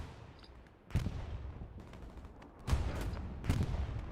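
Gunfire in the World War II shooter Hell Let Loose, with a steady crackle of shots and three sharper, louder bursts standing out against continuous background battle noise.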